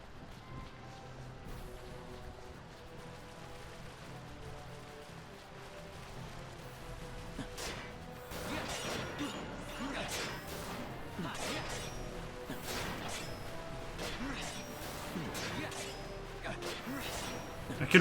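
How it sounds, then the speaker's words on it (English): Heavy rain with lightning in Final Fantasy XII, a faint rain hiss at first that builds to a denser downpour with repeated sharp crashes and whooshes in the second half. "This is heavy rain."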